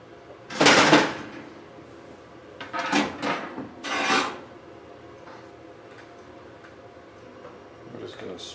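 Pieces of brined deer jerky are patted dry by hand before smoking, giving a few soft, rustling dabs in short bursts, then quieter handling noises near the end.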